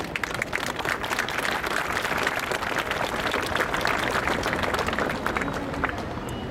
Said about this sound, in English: I'd like all of you, just with a round of applause, to thank him once again.